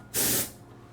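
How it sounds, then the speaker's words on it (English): A short, loud burst of compressed air from a spray can in a modded Into the Breach session, a broadband hiss lasting about a third of a second before trailing off into quiet room tone. "I'm going to spray some air."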